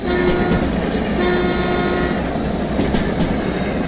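DH4 diesel locomotive in the Derail Valley train game running steadily with a continuous low engine rumble and track noise, its horn sounding in sustained tones through most of the stretch, loud and close.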